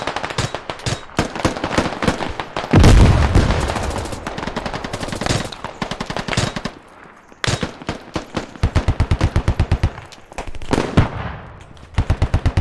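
Video game machine gun fire in a military shooter: loud, close bursts of rapid automatic shots, some long and dense, others short and clipped, separated by brief pauses.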